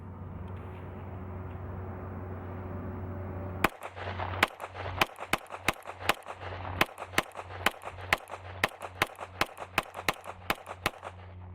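Handgun shots fired in a quick, uneven string of about twenty sharp, loud reports at a shooting range during a test with a mounted weapon light, starting abruptly after a low steady background rumble and echoing briefly after each crack.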